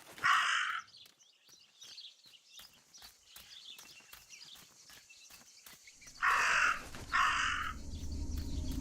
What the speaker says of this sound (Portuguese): Isso aqui é o corvo